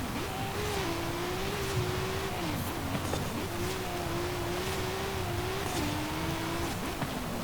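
An upgraded inline-six engine swapped into a 2019 Toyota 4Runner TRD Pro off-roading in Forza Horizon 5, droning steadily with repeated rises and dips in revs as gears shift, moderately loud and without talk.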